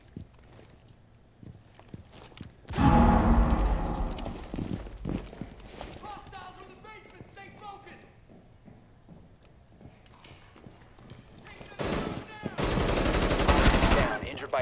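Hip-fired gunfire in Rainbow Six Siege, with loud bursts of rapid shots near 3–5 s and again near 12–14 s and scattered softer shots and footsteps in between. A voice speaks over part of it.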